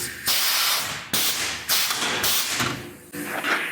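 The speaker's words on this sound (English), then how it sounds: "take your huck gun, push on the back side of it so it doesn't pop the huck out" A huck gun sets a huck bolt and collar on a Kenworth W900A sleeper rail support, giving several loud bursts of pneumatic hissing, each with a sharp onset and a thud, separated by short pauses.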